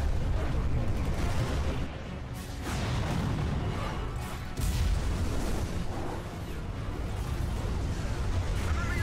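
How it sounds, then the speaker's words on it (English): Cannon fire from the Final Fantasy XII video game, heavy booming blasts that repeat and overlap into a continuous loud rumble, with a few distinct deep thuds over several seconds. "Give word to the cannons. Make ready and fire."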